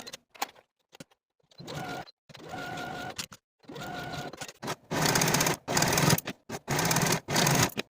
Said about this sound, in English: Sew those side seams with a 1/2-inch seam allowance and then finish your seams.